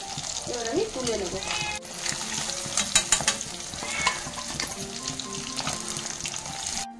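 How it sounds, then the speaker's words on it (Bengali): Pieces of katla fish fry in hot oil, turned until red-browned, giving a dense, close sizzle with scraping and clinking of a utensil as they are flipped, steady throughout. "উল্টিয়ে পাল্টিয়ে আমি লাল লাল করে ভেজে নেব।"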